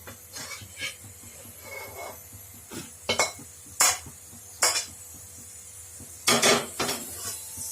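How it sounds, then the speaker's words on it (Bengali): Fried pointed gourd is tipped out of a cooking pan into a container, with scattered metallic clinks and scrapes of utensils against cookware and quiet gaps between the louder knocks. "আমি পটলগুলো একটা জায়গার মধ্যে ঢেলে নিচ্ছি"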